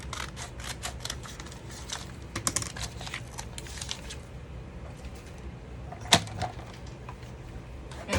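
Scissors snipping a small hanging piece of paper while making an envelope notebook, a few quick crisp cuts at close range among light handling and rustling, then one sharp louder snip near the end.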